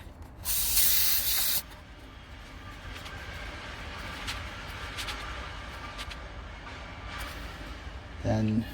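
A short, loud burst of air hissing near the start as a motorcycle tyre pressure sensor is screwed onto the valve stem, followed by quiet background hum and a brief clatter at the end.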